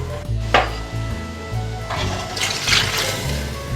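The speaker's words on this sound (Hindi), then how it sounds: "अब हम इस स्टेज पे इसमें पानी ऐड कर देंगे" Water poured into a pot of frying mutton with garlic-ginger paste, a rushing splash and hiss that swells twice over a steady low kitchen hum, with no talk.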